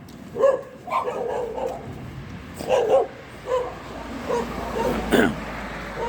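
Dogs bark repeatedly at a distance on a cold day outdoors in Hungary, irregular yaps and woofs scattered over several seconds against faint outdoor background noise.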